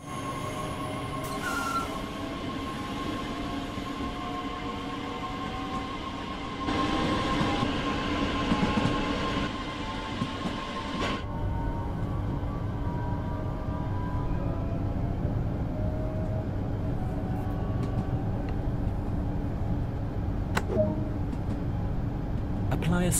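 A DB Regio BR442 Talent 2 electric train in Train Sim World 2 coasting along the track, giving a continuous rolling rumble with whining tonal hums and faint wheel squeal, louder through the middle stretch before settling.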